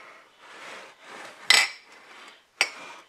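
Gratin dishes handled in a home kitchen while a seafood casserole is prepared, with soft shuffling and two sharp ceramic clinks close by.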